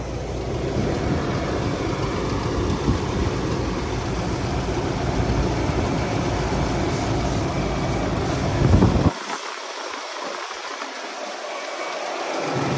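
A 2011 Infiniti QX56 with an automatic V8 runs in a steady, close, fairly loud engine drone, then cuts abruptly to a quieter, thinner hum near the end; no talking.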